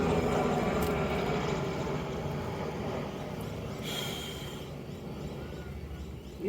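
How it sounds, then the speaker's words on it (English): A helicopter passes overhead, giving a steady, fairly loud engine and rotor drone that fades slightly over several seconds. "Chopper."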